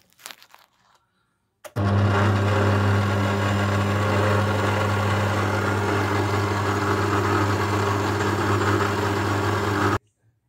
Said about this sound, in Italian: portiamo a 1 per l'impasto completo e lasciamo almeno che lavori la planetaria